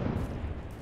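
Frag grenade blast in Apex Legends, a deep low rumbling boom that fills the whole short moment with dense low-end energy and no distinct onset.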